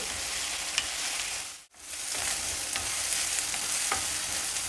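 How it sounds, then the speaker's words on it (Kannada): Onions and green chillies fry in a pan with a loud, steady sizzle, cut by a brief near-silent dip, then resuming with light stirring taps. "ಈರುಳ್ಳಿ ಮೆಣಸಿನ್ಕಾಯಿ ಎಲ್ಲ ಆಲ್ಮೋಸ್ಟ್ ಫ್ರೈ ಆಗಿದೆ"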